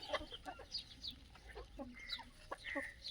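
Desi free-range chickens cluck softly and repeatedly nearby while drinking lassi on a poultry farm, faint scattered calls over low background noise.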